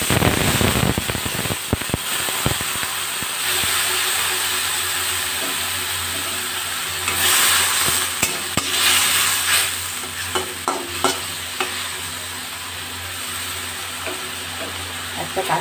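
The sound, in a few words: water with cumin and sugar poured into frying okra, sizzling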